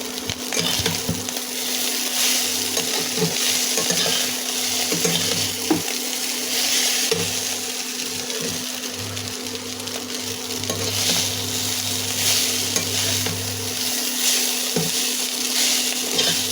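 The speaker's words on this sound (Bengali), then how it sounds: "নাড়াবো" Boiled chow mein noodles being stirred and fried in a pan with egg and onion, giving a steady sizzle with scraping and stirring noises that run throughout.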